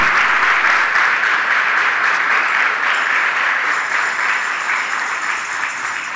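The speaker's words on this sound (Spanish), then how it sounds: "dale fuerte ese aplauso al Señor" A church congregation applauds loudly and steadily, a dense wash of clapping that tapers slightly toward the end.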